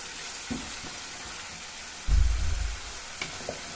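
Curry leaves drop into hot oil in a pan for a restaurant-style palak paneer curry, giving a sudden loud sizzle that lasts under a second and fades, after a few quieter clinks and stirring noises.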